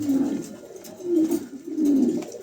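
A pair of adult pigeons coos close by in three soft, low, rolling calls spaced about a second apart, with no other sounds.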